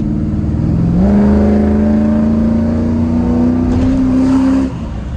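A Chevrolet C10 truck's 5.3 LS V8 engine revs up on a dyno and holds a steady, rising roar for several seconds, loud and close, then drops off abruptly near the end.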